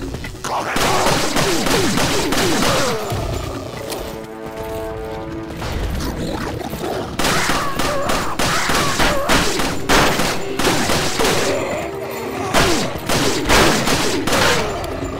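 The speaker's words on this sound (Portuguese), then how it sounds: "essa pistola aqui tem uma perfuração monstra" Rapid, loud gunfire in Resident Evil 4 (Assignment Ada), with repeated sharp bursts across the whole stretch, a brief lull near the middle, then dense firing again.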